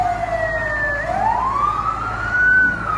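Fire truck sirens wail continuously at a house fire in Savannakhet, Laos, two overlapping tones sweeping up and down, loud and fairly near over steady engine rumble and crowd background.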